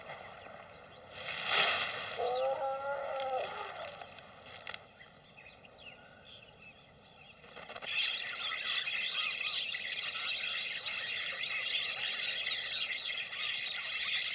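Loud, harsh bird squawks and squeals ring out in bursts, followed by a dense, continuous chorus of chirping calls.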